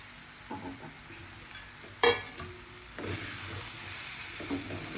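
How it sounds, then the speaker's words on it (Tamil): Chopped parotta being stirred as it fries on a low flame for roadside-style kothu parotta, giving a steady soft sizzle with scattered scraping and tapping stirs and one sharper clatter near the middle, with no talking. "அப்படியே கிண்டி விட வேண்டியதுதான்"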